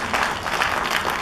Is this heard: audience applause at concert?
yes